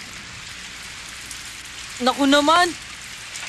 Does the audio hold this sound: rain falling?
yes